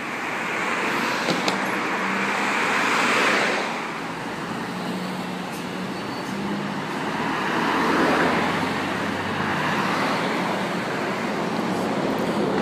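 A Sydney Metro bus on route M54 drives past at Epping, its engine and road noise rising into a broad roar, easing off, then swelling again over steady background traffic, with no one speaking.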